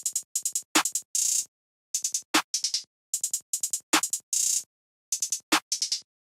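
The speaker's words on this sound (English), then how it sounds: "Then for the next thing I had this perky clap from Ferno's kit again," A perky clap sample from Ferno's kit is layered in a basic trap clap pattern over rapid hi-hat clusters and short rolls, sharp bright hits repeating in a steady loop with no one talking.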